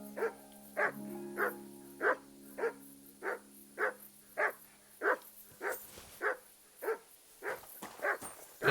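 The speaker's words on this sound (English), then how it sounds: "that dog does not want to shut up" A dog barks steadily in Kingdom Come Deliverance II, a medieval role-playing game, about a dozen evenly spaced barks over low game ambience, with no talking.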